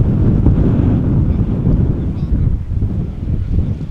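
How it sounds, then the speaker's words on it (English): Strong gusting wind at Amsterdam Schiphol Airport buffeting the microphone, a loud low rumbling roar that swells and eases without pause. "It does feel like the wind is picking up a little bit."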